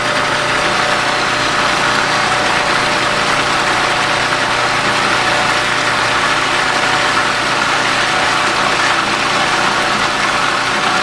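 A food processor running steadily as corn oil is slowly added to eggs for a salad dressing, a loud, constant motor whir that holds unchanged throughout with no talking.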